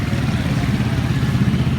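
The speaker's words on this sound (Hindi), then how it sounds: "रिक्शे वालों का राज और फंसी हुई मोटरसाइकिलें।" Motorcycles stuck in dense street traffic among rickshaws, a continuous close engine drone and clatter, loud and steady with no talk.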